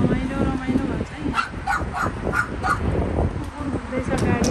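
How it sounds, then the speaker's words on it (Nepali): A dog barks in short yips and whimpers over ongoing talk, fairly close, outdoors in Portugal with a car nearby. "कुकुर घुम्दैछ"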